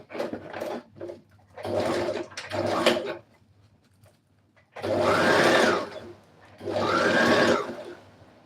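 Sewing machine stitching a plastic-bag corset in short separate bursts, then two longer steady runs, close and fairly loud with a low hum between bursts and no talking.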